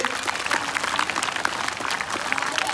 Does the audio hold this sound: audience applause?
yes